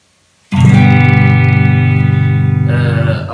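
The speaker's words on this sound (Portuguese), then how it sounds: "Vou começar por vos mostrar como é que é o som limpo sem efeitos." Clean electric guitar with no effects, played as a sustained chord that rings out strong and near, then a fresh strum near the end, with no voices.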